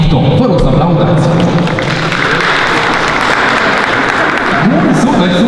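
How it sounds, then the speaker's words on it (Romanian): An audience at a social media summit conference in Bucharest applauds loudly and steadily, with crowd voices and tonal noise mixed into the clapping. "Vă rog să aplaudați!"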